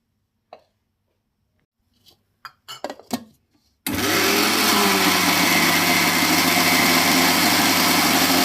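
A blender grinding curry ingredients for a Nepali fish curry, starting abruptly after a few light clicks and handling knocks, then a loud, steady high-pitched motor whir that runs continuously to the end.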